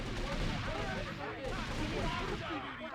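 Dense, continuous gunfire and rumbling blasts in GTA Vice City on PS2, a busy wash of shots that stays loud and steady for three seconds.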